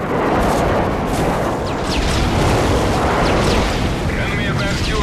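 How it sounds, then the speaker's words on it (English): Airstrike explosions in Call of Duty: Modern Warfare 3 rumble in a dense, continuous roar of blasts and booms, loud and unbroken throughout with sharp debris crackles layered on top. "Enemy airstrike approaching."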